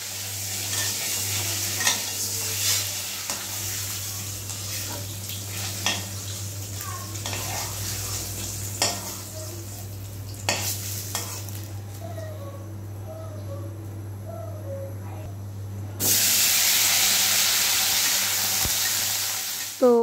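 Potatoes fry in a pan for an egg curry, giving a continuous close sizzle with occasional clinks of utensils and cookware. The sizzle swells louder near the end.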